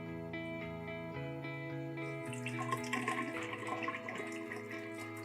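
Water flows as a small pump runs in a DIY hydroponic tower, a quiet trickle and splash that picks up partway through over a faint steady tonal hum.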